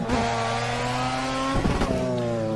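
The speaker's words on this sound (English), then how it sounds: "I love the way it sounds when you bounce off the rev limiter." A tuned Mazda RX7 in the Assetto Corsa racing game screams at high revs, a loud buzzing engine tone held near the limiter with a brief stuttering dip partway through, no voices.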